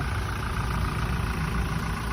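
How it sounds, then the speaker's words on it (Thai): A 2016 Toyota Revo 2.4 pickup truck engine idles with a steady low rumble, close and constant throughout, with a faint high whine above it. "ดูสภาพเครื่องยนต์นิ่งๆ เลยนะครับผม"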